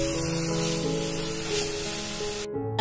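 Half a kilo of mutton sizzles as it is mixed with masala in a pan, producing a steady, close, hissing fry with a low hum underneath that cuts off abruptly near the end.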